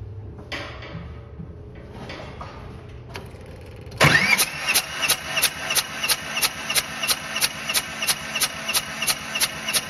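A Bobcat with a hard cold-start problem cranks during a compression test, its starter turning the engine over in a steady run of rhythmic pulses after a few clunks and knocks, close and loud.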